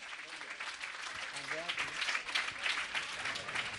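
An audience at a gathering with a Jain monk claps in a dense, steady patter, with a voice speaking faintly underneath.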